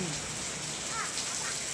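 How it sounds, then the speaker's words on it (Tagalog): Steady rain hissing loudly and evenly, a dense wash of falling water with a faint voice briefly underneath. "Hallelujah, it's raining."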